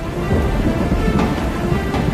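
A thunderstorm with torrential rain pours steadily in a dense, loud hiss, with a low rumble of thunder rolling beneath it throughout.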